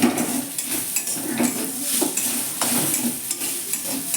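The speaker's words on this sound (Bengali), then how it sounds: "এই যে মুগ ডালটা আমি একটু কড়া নেড়ে পুর করে নেবো" Moong dal filling with ground cumin and chilli is stirred in a pan, giving soft sizzling with rhythmic scraping and clinks of a spoon against metal, close and steady with no talking.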